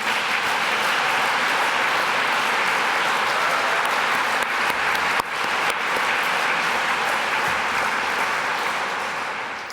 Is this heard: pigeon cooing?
no